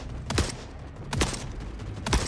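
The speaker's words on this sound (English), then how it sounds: "I love seeing infantry standing face to face with a turret just going full auto" Turret gunfire in The Forever Winter, three sharp, separate loud bursts about a second apart over a steady background rumble.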